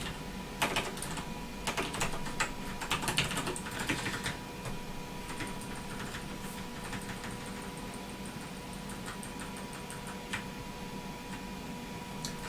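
Fingers tap on a computer keyboard in quick, uneven bursts of close, crisp clicks, then settle into sparser keystrokes and faint ticking over a low steady hum.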